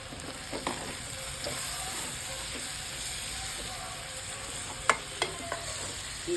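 Okra and potato curry being stirred in a pan, a soft steady sizzle with a few scraping clinks of the spoon against the pan, quiet and close.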